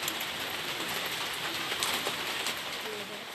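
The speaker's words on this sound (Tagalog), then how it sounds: "Ayan po, maulan ng hapon ngayon." Steady afternoon rain falls in a rural yard where goats shelter, a continuous dense hiss of drops on surfaces, moderately loud and unbroken throughout.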